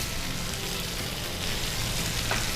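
Ingredients frying in a pan for a paste, a loud, steady, dense sizzle with constant crackle and no voices.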